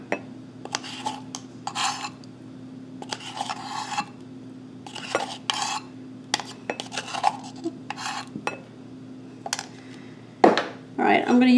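Fork scraping and rasping through two cups of flour with baking powder in a bowl, a series of short dry scratchy strokes with brief pauses, fairly close, ending in a couple of louder knocks against the bowl.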